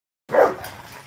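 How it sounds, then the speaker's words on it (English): A 10-month-old dog lets out a single loud bark that trails off into a softer, noisy tail, close by and without talk. "This is a 10-month-old dog."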